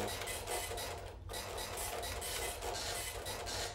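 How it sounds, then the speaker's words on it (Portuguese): A dot matrix printer chatters in the Prison Architect video game, a loud rapid buzzing rattle in rhythmic bursts with a brief pause, continuing alone without speech. "esse barulho de impressora matricial me traz memórias"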